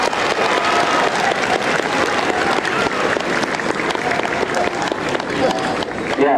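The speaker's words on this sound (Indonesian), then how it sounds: "Tepuk tangan untuk semua." An assembled crowd at a school farewell ceremony applauds continuously, loud and dense, a sustained wash of clapping with crowd noise that holds steady throughout.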